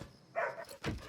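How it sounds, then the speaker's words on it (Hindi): A pet dog barks indoors at night, two short bursts close by with a quiet gap between them and no one talking over them. "अरे क्यों भौंक रहा है?"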